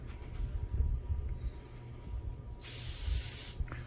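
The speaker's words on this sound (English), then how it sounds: "I have the regulator for the airbrush set at 13 psi" An airbrush regulated to 13 psi sprays paint on a Takom Panzer III Ausf M scale model, giving a soft low hiss and then a brighter, louder burst of spray for about a second, close and without speech.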